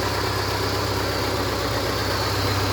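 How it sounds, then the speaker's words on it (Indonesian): A 1995 Honda Genio with VMFI fuel injection idles smoothly, a steady close low engine hum with an even rhythmic pulse throughout and no talk. "Ini mesin masih sangat halus ya, masih sangat halus kondisi mesinnya."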